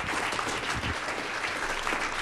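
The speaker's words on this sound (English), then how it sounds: "Give them another round of applause." An evening audience at a Fourth of July parade gathering claps in a dense, steady burst of applause, close and full for a couple of seconds.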